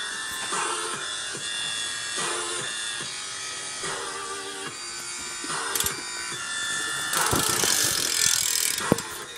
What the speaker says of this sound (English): here's a hub sound if you want to